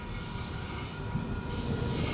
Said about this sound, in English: Today I'm taking a train over to a local college campus